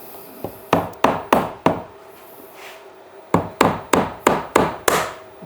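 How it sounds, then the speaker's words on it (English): A screwdriver being hammered in to pry up the lid of a battery, heard as a fast run of sharp, loud metallic knocks, a pause, then a second steady run of close blows with no talk. "I'm trying to get the screwdriver into the lid so I can get under the lip and then just pry up on it"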